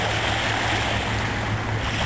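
Boats moving in and out offshore along a foggy coastline where dispersant washes onto the water, heard as a steady wash of surf, wind and distant engine rumble running unbroken throughout.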